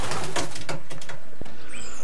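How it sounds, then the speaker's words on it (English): A racing pigeon in a loft cooing, soft throaty rolling coos close by, brief and alone with faint chirps behind. "What's that pigeon?"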